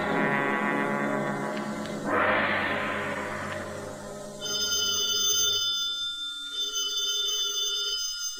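A telephone bell rings in repeated bursts as a sound effect in a vintage radio comedy drama, set in a police inspector's office at headquarters, loud and alone after a swell of orchestral music.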